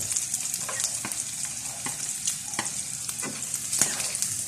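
Garlic frying in a pan for ginataang kalabasa at sitaw, a bright steady sizzle with a spoon stirring and tapping against the pan in irregular strokes, close up and with no talking.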